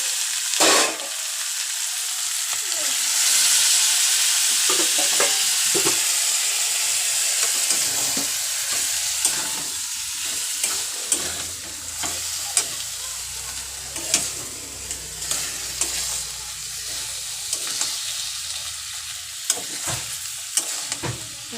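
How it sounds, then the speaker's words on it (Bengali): Chicken curry with potatoes sizzles and fries in a pan while being stirred, a steady close hiss broken by scraping clicks of the spoon against the pan throughout, with no talking. "এটাকে আমরা কষিয়ে নিচ্ছি।"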